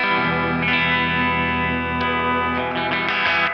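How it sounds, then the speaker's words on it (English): Out-of-tune Gretsch electric guitar run through the spring reverb of a Do Good effect in a surf style, ringing chords held and restruck several times with a wet, splashy reverb wash, loud and close, no voices. "I also have a spring reverb now over here on the Do Good"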